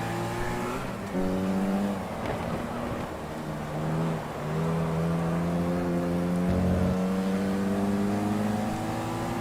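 A Mini race car engine in the racing game GT Legends drones and revs, its pitch climbing through gears and dropping on shifts, loud and continuous from the driver's seat.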